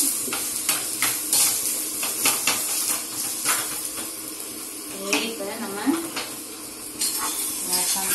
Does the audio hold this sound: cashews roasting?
yes